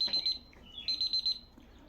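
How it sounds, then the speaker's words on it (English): A 15-minute timer alarm goes off with rapid, shrill electronic beeps in two bursts separated by a short pause, sounding fairly close with no talk over it. "Hang on, 15-minute timer is going off."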